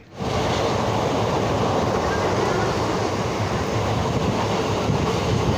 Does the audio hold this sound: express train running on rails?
yes